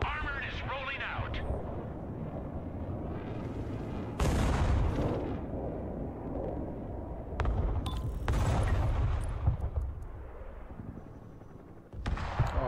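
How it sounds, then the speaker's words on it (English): Rocket artillery firing in the war game Broken Arrow, sudden loud rushing volleys of launches and blasts that burst in and cut off repeatedly, with someone talking between and over them. "Rocket artillery ready, sir."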